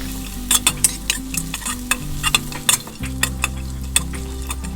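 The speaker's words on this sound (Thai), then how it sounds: "ผัดกระเทียมของเราให้สุกเหลืองเลยนะครับ" Garlic stir-fried in hot oil in a wok gives a steady close sizzle, broken by repeated sharp scrapes and clinks of a spatula against the pan, with a low background hum running underneath.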